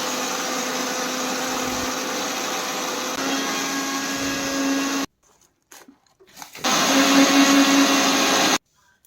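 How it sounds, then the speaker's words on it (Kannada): A kitchen mixer grinder whirs steadily as it grinds fried gram, with a short pause partway through before the motor runs again, loud and close with no talk. "1 kg ಅಷ್ಟು ಹುರಗಡ್ಲೆ ನಾವು ಮಿಕ್ಸಿ ಇಟ್ಕೊಳ್ಬೇಕು ಸ್ನೇಹಿತರೆ"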